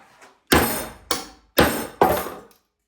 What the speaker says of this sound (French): voici le spectaculaire marteau disponible dans les quincailleries du coin